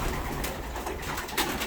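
Pigeons in a breeding loft coo softly in repeated low murmurs against a steady, noisy background.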